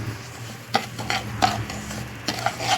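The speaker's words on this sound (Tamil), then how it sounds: "அரை கப்பு ரவை போட்டு வறுத்து எடுத்துக்கலாம் அதே நெய்யில்." Semolina (rava) roasting in ghee, stirred by hand with a utensil scraping the pan in a few regular strokes over a soft, low sizzle.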